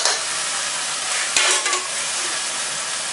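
Food sizzles loudly in a hot pan as it is stir-fried over high heat, a constant crackling hiss with a brief scrape of utensils partway through.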